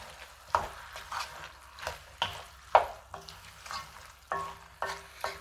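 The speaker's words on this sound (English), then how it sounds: "Give it a mix." Caponata vegetables and tomatoes are stirred in a pan, with a run of scraping, shuffling strokes over a soft sizzle, close and moderately loud, no voices.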